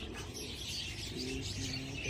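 Racing pigeons returning to the loft after a 144-kilometre flight coo softly amid a constant outdoor hiss and faint chirps, with low cooing tones repeating in the background.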